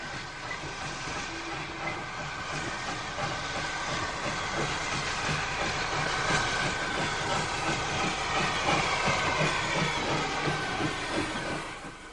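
An LMS tank locomotive rolls into a station at a mining museum heritage line, a steady close rumble of wheels and rail clatter with a faint hiss, holding even loudness throughout before easing slightly at the end.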